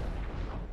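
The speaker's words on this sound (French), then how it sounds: "Ok, c'est une explosion, bon, très bien." A brief, dull explosion rumbles from the Deathstate video game, a low muffled boom with no voices over it.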